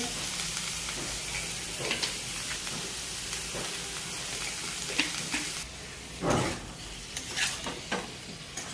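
Mixed vegetables fry in spiced oil with a continuous close sizzle and hiss, broken by stirring scrapes and a few louder bursts near the end.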